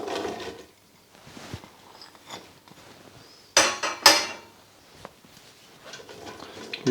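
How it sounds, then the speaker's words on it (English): Carrots and shallots stirred in olive oil in a pot, a few scattered clinks and scrapes of a utensil against metal, with two sharper clanks near the middle amid quiet gaps. "give that a good stir to coat it with the oil"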